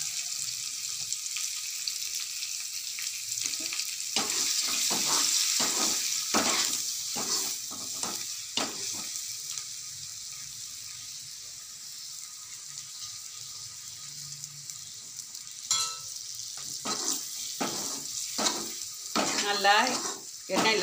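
Eggs frying in oil with salt, giving a steady broadband sizzle throughout with repeated stirring and scraping strokes, especially in the middle and final stretches; no talking.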